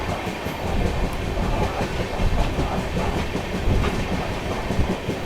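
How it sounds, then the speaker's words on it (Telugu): Rumbling train noise with steady clickety-clack of wheels on rails as the Bhadrachalam Express crosses on the Kacheguda to Kurnool City route, loud and continuous from start to finish. "కాచిగూడ నుండి కర్నూలు సిటీ చేరుకునే భద్రాచలం ఎక్స్ప్రెస్ ఉంది, దానికోసం మన ట్రైన్ ఇక్కడ క్రాసింగ్ అన్నమాట."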